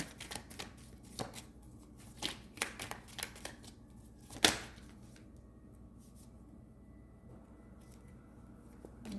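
Tarot cards are handled and flipped during a reading, with a run of soft close snaps and shuffling flicks, one sharper slap, then a faint quiet stretch.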